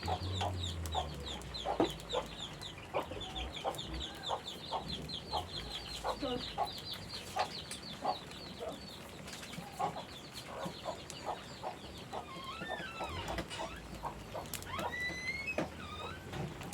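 Chickens cluck and chatter continuously at moderate distance, with scattered pecking taps and rustling in the background.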